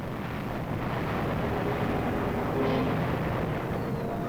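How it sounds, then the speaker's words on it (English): An ammunition dump explodes in wartime Korea, a loud, continuous rumbling roar with dense crackling throughout, swelling slightly near the end. "An ammunition dump goes up, thundering and crackling as it illuminates the sky with a spectacular display of fireworks."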